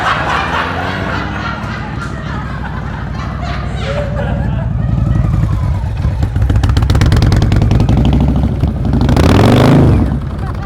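Motorcycle engine revving and idling during advanced slow-speed riding practice in Ohio, a steady close rumble that builds and swells louder toward the end, with a passing car-like surge near the finish.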